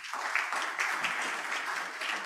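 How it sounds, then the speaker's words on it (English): Applause at an event honouring a doctor, a short burst of steady crowd clapping from a sizeable audience, dense and even throughout, with no voices over it. "Please give me a round of applause."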